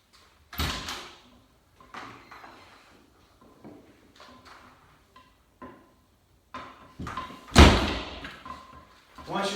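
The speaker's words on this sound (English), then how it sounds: "You'll shut the door on it" A door is shut on a resistance band anchor during a lat pull-down setup, giving a loud slam near the end amid softer thumps and handling bumps at close range.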